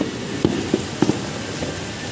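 Rain falls steadily on New Year's Eve in the Philippines, a continuous wash of patter with a few sharper thuds standing out, close and moderately loud with no talking.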